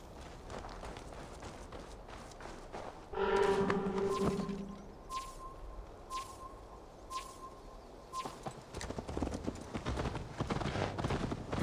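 Horse hooves galloping in Assassin's Creed Valhalla in Yorkshire, a burst of rapid, loud clip-clop beats that fades into scattered thuds and a repeated tonal game sound, with faint birds in the background.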